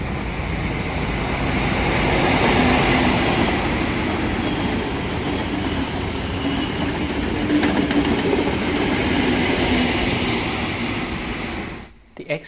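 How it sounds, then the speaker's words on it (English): Dubbo XPT passenger train passing with a loud continuous rush and rumble of wheels on track, steady for about eleven seconds before cutting off abruptly. "This is the Dubbo XPT."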